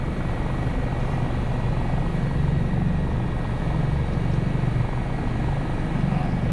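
A Dauphin helicopter in Microsoft Flight Simulator 2024 hovering at low altitude, its rotor and turbine drone steady, loud and continuous, with no talking.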